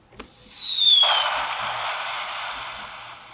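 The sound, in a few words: bomb sound effect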